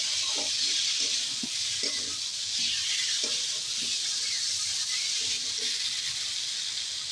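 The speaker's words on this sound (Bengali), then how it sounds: "মশলার সাথে ভাজা আলুটা একটুখানি কষিয়ে নেব।" Fried potato pieces sautéing with spices in a hot pan for a Bengali curry, giving a steady, loud sizzle throughout with faint scraping stirs underneath.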